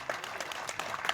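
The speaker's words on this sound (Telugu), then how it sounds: "Please give continue the claps." Steady audience applause at a stage event, a dense wash of many hands clapping at a moderate, even level without clear breaks.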